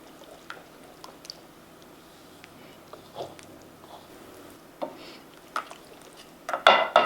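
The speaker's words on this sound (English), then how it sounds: "We're going to add in our cheese. And just Stir until well combined." Cheese is stirred into carbonara pasta in a pan, with soft squishy sticky sounds and sparse utensil clinks against the pan, building to a few louder scrapes at the end.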